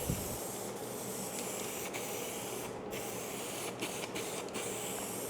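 A spray gun applies clear coat to a surface in a steady, continuous hiss that runs the whole time at an even level, with a few brief dips where the trigger eases off.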